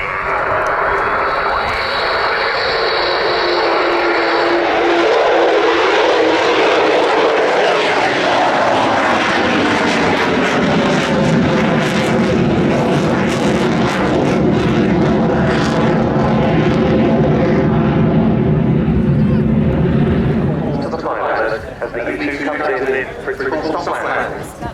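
A USAF U-2S flying its display at the RIAT airshow roars loudly past, its engine tone sweeping and shifting as it passes before fading and thinning near the end, with a commentator speaking over it.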